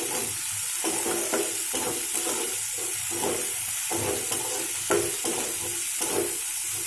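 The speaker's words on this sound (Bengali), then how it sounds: "দিয়ে এটা একটু নাড়াচাড়া করে নিতে হবে" Capsicum frying in a pan for masala macaroni as it is stirred: a steady sizzling hiss broken by repeated scraping and clattering strokes of the spoon, close and continuous throughout.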